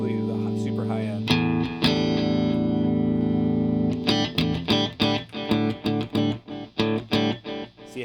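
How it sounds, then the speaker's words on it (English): Electric guitar through a Mesa/Peavey amp with the push-pull bright switch engaged, a sustained chimey chord ringing for several seconds, then a run of rhythmic staccato strums, loud and up front with no talking. "this push pull thing, listen to that the super high end."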